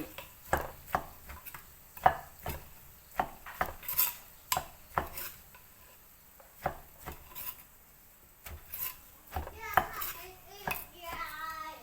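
Rhythmic knife chopping on a board, preparing boiled jackfruit for a Thai roasted jackfruit dish (khua khanun), with irregular close strikes and occasional clatter of utensils, no talk.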